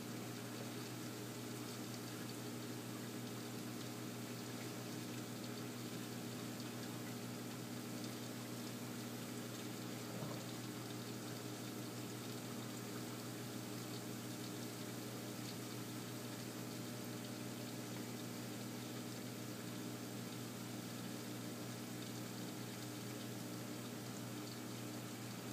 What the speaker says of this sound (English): You can see the water filling up